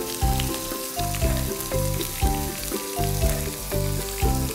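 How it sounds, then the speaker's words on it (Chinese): Tofu and potatoes pan-fry in a non-stick pan with a loud, continuous sizzle. A steady, pulsing tonal hum runs beneath it. "我们看一下我们的豆腐还有我们的马铃薯有没有煎到恰恰"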